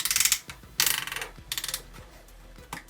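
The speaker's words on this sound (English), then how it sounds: "Ratcheted bicep swivel." Ratcheting bicep swivel joint on a Transformers Legacy Titan Class Metroplex toy, giving several close, quick bursts of rapid plastic clicks separated by brief pauses.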